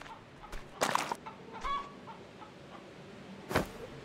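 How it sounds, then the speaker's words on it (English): Chickens in a farming video game let out a few short clucks and squawks in quick bursts, with brief sharp sounds near the start and again toward the end over a low background. "Get out of the way, chickens."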